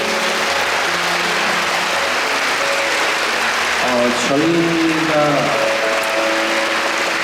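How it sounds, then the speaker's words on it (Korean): A concert audience applauds for the staff in a dense, steady roar of clapping that lasts throughout, with someone speaking briefly over it. "스태프분들 위해서 큰 박수 한 번만 더 부탁드리겠습니다."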